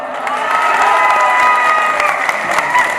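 Mushaira audience clapping and cheering after a recited couplet, a fairly loud dense burst of crowd applause with some shouts, steady throughout.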